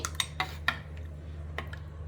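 A spoon stirs tomato juice in a glass or steel vessel: a few bright, distinct clinks and scrapes scattered over a steady low hum, close and fairly quiet, with no talking.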